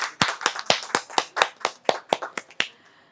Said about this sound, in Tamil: அவங்களையும் ஒரு பெரிய கரகோஷத்தோடு நம்ம வந்து வரவேற்கலாம்